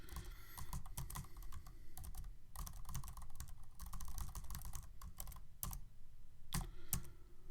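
Continuous clicking of computer keyboard keys used to steer a yellow car in a homemade racing game program, a steady close run of keystrokes with brief pauses, no voices.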